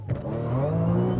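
A 500+ hp supercharged Audi S4 launches hard from a standstill on a bumpy road, its engine note climbing steadily and loudly close by, with a brief chirp of tire noise at the start.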